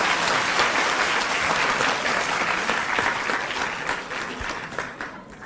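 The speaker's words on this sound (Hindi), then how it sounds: "एक बार जोरदार तालियों से आइए स्वागत करें सर" A large audience at a Delhi education event breaks into loud, sustained applause welcoming the Chief Minister, with dense clapping throughout that eases slightly toward the end.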